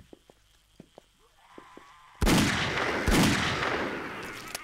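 Gunfire from a 7 Days to Die zombie-horde fight: a few faint, scattered sharp pops, then an abrupt loud burst of close firing that swells into a sustained, roaring barrage.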